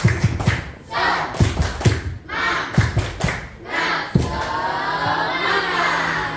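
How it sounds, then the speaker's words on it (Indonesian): A primary school class doing a rhythmic spirit clap, bursts of group clapping in a patterned beat with short pauses between phrases, ending in looser scattered applause and crowd noise. "Tepuk semangat."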